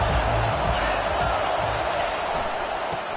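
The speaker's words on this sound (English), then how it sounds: "This crowd trying to make life miserable for this offense." Dense stadium crowd roar in a college football video game against Iowa, a steady loud wash of cheering noise filling the whole clip.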